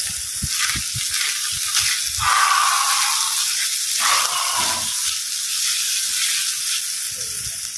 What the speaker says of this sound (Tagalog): so fry natin konti ito bago natin ilagay yung mixed vegetables